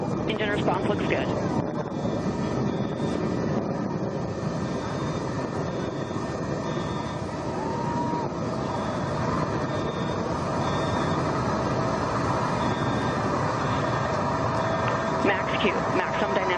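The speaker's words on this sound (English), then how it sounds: "Engine response looks good." A continuous, heavy roar of the Blue Origin New Shepard rocket engine during ascent, dense and unbroken throughout, with faint voices and beeping tones layered over it.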